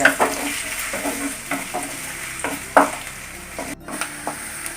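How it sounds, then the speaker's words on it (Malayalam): Sliced onions frying in oil until brown for a vegetable biryani, a close crackling sizzle broken by irregular spoon stirs and scrapes against the pan, with a few sharper clinks. "സബോള ഇട്ട് നന്നായി ഒരു ബ്രൗൺ കളർ വേണം"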